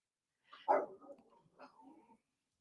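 A puppy gives one short, close bark followed by softer whimpering yips, brief and fairly quiet against an otherwise silent background.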